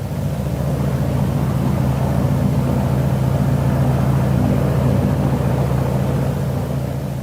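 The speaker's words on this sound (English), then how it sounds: "The engine is first run on both magnetos." A Catalina patrol plane engine runs up on both magnetos in a steady, droning roar with low rumble and constant intensity throughout, recorded in 1942.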